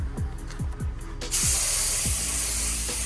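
A spray gun, turned down very low, lays light coats of paint on a white car during a budget makeover. A steady, close airy hiss starts about a second in and runs to the end, over a few repeated low descending thumps.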